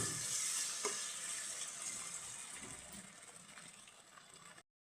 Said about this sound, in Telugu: బాగా టమాటా ముక్కలు మెత్తబడేలాగా బాగా ఫ్రై చేసుకోవాలి